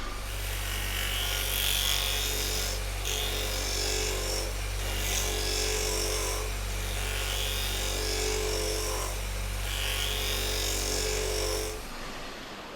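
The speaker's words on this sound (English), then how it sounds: "See what a little shear scrape here with the shear will do to it." A steady motor hum from a spinning lathe under a repeated rasping scrape of a shear scraper against wood, in several passes, stopping near the end.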